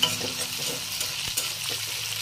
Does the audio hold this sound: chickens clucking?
no